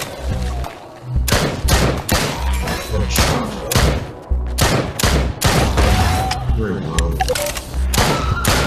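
Grenade blasts and bursts of gunfire in the VR game Drop Dead on Quest 2, heavy booming thumps and rapid shots repeating loudly throughout, with game voices mixed in.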